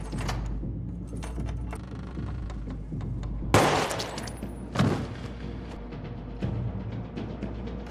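Gunfire in a prison drama scene, as a man shoots a woman at her apartment door: sharp, loud bangs burst out at intervals over a continuous low background rumble, with no voices.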